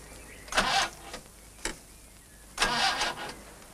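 Faint starter cranking in two short attempts separated by quiet pauses, the car engine whirring briefly without catching, apparently getting no fuel.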